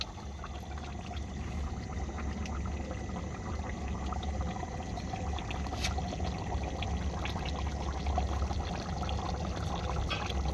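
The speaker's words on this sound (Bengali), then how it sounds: "খুব সুন্দর একটা টকবক টকবক" Meat curry cooking over a wood-fired clay stove, a continuous dense bubbling and simmering with a low crackling rumble, steady and close throughout with no talk.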